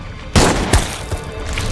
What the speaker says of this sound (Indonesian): tembakan Fury terlihat sia-sia karena Grafik bisa pulih dengan sendirinya.